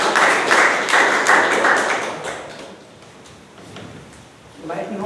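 Audience applause for a Toastmaster at a Toastmasters meeting, a burst of clapping in the opening two seconds that fades out, followed by a quieter stretch and the start of a voice near the end.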